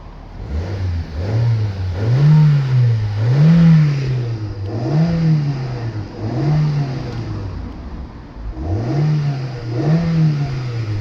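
A Mazda MX-5 with a 1.8 engine revs repeatedly, loud and close, each blip rising and falling in a steady rhythm of about six throttle bursts.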